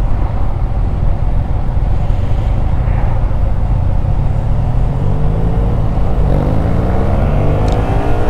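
A car goes by on a road where a group of motorcyclists waits, its engine rising out of a steady loud rumble of idling motorbikes.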